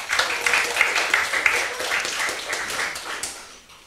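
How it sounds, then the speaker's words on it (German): An audience at a hacker conference applauds a speaker, a dense burst of clapping that is loud at first and then thins and fades toward the end. "bitte einen herzlichen Applaus für Scorpi"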